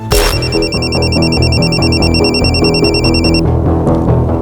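A loud electronic ringtone warbles in repeating high tones over a steady musical backing, then cuts off abruptly near the end.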